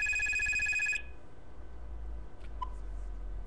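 A telephone rings with a loud, shrill electronic trill for about a second and then stops, leaving a quiet room with faint background hum and a soft click.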